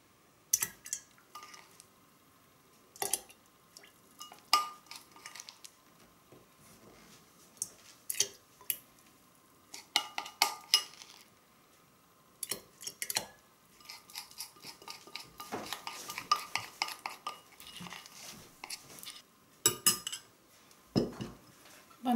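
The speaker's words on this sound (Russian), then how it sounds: "И теперь нужно переложить почки в банку с водкой." Birch buds being transferred with a utensil into a jar of vodka: a scattered series of light metallic and glassy clinks and scrapes, close and fairly quiet, with short bursts and pauses and no talking.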